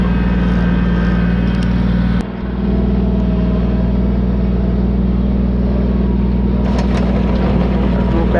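A 24-horsepower Kubota B2400 tractor with turf tires working a road, its engine running loudly and steadily with a low, even rumble throughout, dipping only briefly once.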